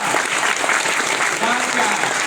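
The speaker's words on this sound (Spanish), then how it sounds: "Para todos pido un gran aplauso" Dense, steady clapping from a tour group gathered at a hacienda, a continuous close-sounding applause filling the whole short stretch.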